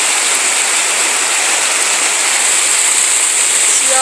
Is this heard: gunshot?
no